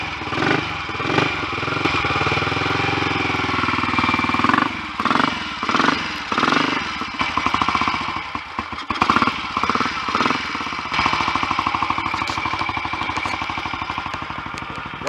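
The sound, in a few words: Royal Enfield 250 GT motorcycle engine starting and running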